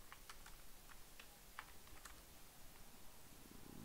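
Light typing on a computer keyboard while setting up a Java Swing project, a quick irregular patter of soft key clicks, close and fairly quiet, with no talking.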